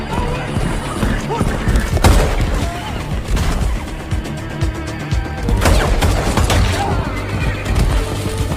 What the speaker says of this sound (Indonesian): John sedang mengejar 3 pria yang bekerja untuk The Elder dengan menunggangi seekor kuda